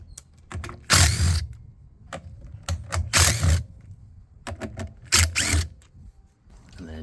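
A 10mm socket ratchet loosens screws from the counterweights of an LG front-load washer, giving repeated bursts of close, rapid clicking separated by quieter pauses, with someone speaking between them.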